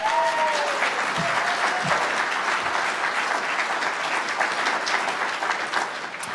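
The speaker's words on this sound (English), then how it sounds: "big round of applause for Strider." A conference audience breaks into a dense, sustained round of applause that fills the room from start to finish, with many hands clapping at once.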